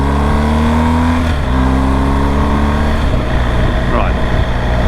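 A motorcycle fitted with a Puig touring screen accelerates toward 80 km/h, its engine droning loudly with rising pitch under heavy wind rush, close to the microphone.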